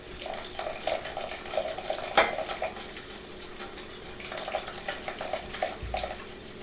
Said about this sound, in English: now we're going to pour the rest in, but we're going to do it very, very slowly